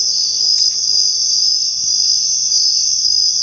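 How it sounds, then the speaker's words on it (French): Crickets chirping in the horror video game Death Park, a dense, steady high-pitched trill that carries on without a break, loud and close with no other sounds. "Ces bouts de grillons sont insupportables"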